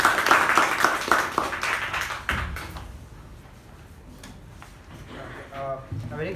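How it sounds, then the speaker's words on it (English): Toastmasters meeting audience giving a short round of applause, dense clapping for about two seconds that thins into scattered taps, followed by a voice speaking. "Please put a big round of applause for our president."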